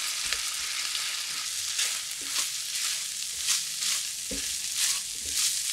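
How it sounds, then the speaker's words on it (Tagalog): Corn and tuna sautéing in a pan give a bright, steady hiss, with soft stirring scrapes now and then and no talk. "Bale, igigisa lang natin to ng ilang minuto."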